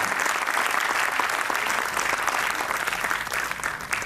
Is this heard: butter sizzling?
no